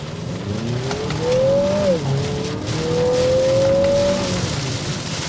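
A 2023 Lexus NX 350 F-Sport's 275-horsepower turbocharged engine pulls hard from inside the cabin, revs climbing, dipping briefly at a gear change, then rising again, loud and steady.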